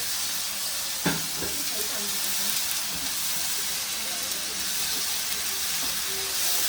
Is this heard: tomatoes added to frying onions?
yes